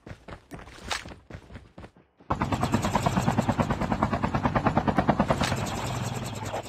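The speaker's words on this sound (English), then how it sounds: "Chopper there." A helicopter in the Call of Duty Mobile battle royale game thumps in loud and close after a brief gap, its steady pulsing rotor beat filling the rest of the clip, following earlier scattered footsteps and shots.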